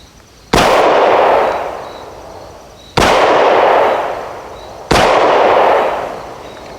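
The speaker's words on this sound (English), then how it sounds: "So I'm gonna go ahead and take some shots now, see how it does" Three loud, sharp gunshots from a Hi-Point YC9 9mm pistol, spaced about two seconds apart outdoors, each crack followed by a long fading echo, with no talking.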